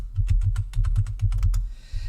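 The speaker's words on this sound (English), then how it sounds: "Type in the right box again." Quick keystrokes on a computer keyboard, about a dozen close, crisp clicks in an uneven burst, stopping just before the end.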